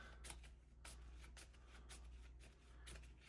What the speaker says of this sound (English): Shuffle our deck